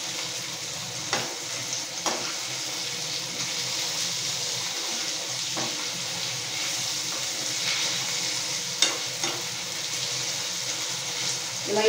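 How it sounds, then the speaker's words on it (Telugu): Chopped vegetable pieces sizzle steadily in a pan with turmeric, a soft continuous frying hiss with a few faint clinks of stirring, heard close and without talk. "పసుపు వేసుకుని వేయించుకుంటూ ఇదిగోండి ముక్కలు కడిగి ఇందులో పెట్టాను"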